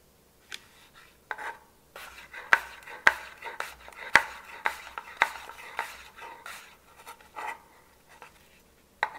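A knife slices Brussels sprouts on a cutting board, giving a string of crisp, irregular cuts and taps, close and fairly quiet, with no one speaking.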